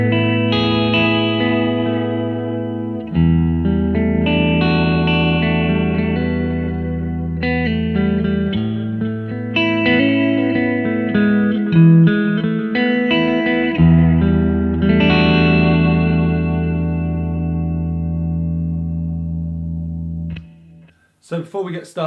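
Electric guitar notes and chords ring out through the tape algorithm of a Flamma FS03 digital delay pedal, a warm, repeating delay with soft echoes trailing each phrase, played alone and fairly loud.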